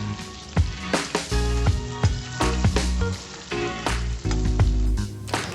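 Small puthi fish fry in a hot pan with loud, steady crackling and sizzling, broken by sharp spattering bursts that flare up every second or so.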